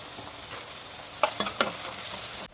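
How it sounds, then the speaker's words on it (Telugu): Onions fried with salt and turmeric for a vanjaram fish curry, a low steady sizzle with a few quick spatula scrapes near the end before the sound cuts off abruptly. "ఉల్లిపాయలు త్వరగా వేగుతాయండి సాల్ట్ వేసుకోవడం వల్ల"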